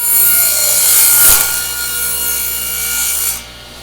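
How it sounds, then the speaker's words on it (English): A wooden board is cut to size for a box-joint flower box, a loud, close, continuous rasping saw cut that runs steadily for over three seconds and then stops abruptly. "So I'm going to go ahead and trim this bad stuff off. We'll turn it around and cut it to size."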